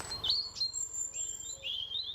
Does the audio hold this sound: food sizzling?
no